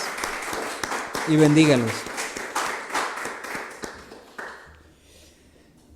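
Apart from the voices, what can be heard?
applause for fathers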